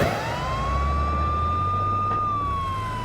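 An ambulance siren wails in one long, steady rising-and-falling tone, loud and close, over a low rumble of traffic.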